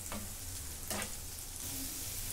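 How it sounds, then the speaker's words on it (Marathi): A ground masala paste with onion is sautéed on a tawa, giving a soft, continuous sizzle with a couple of brief stirring scrapes. It is fairly quiet and close, with no voices. "आता हे पण चांगलं परतून घेते."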